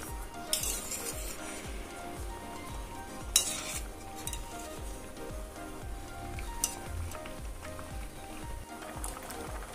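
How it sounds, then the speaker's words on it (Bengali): Raw mango chutney being stirred in a pan as it cooks down, soft scraping and clinking of a utensil against the pan over a low bubbling simmer, with a few sharper knocks. "এভাবে নাড়াচাড়া করে দিলে আমগুলি সেদ্ধ হবে"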